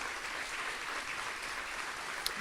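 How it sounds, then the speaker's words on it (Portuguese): Steady applause from a church congregation fills the space, an even wash of many clapping hands at moderate volume with no voices, ending with one sharp tap. "Aplauda bem forte."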